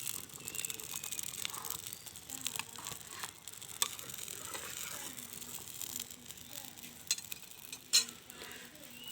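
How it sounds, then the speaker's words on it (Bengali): Fried taro is added to boiling coconut milk and stirred in a pot. Soft scraping and stirring sounds mix with a faint bubbling sizzle, with a few sharper clinks, fairly quiet throughout. "এখন আমি দিয়ে দিচ্ছি ভেজে রাখা কচু। এটাকে নেড়ে দিই।"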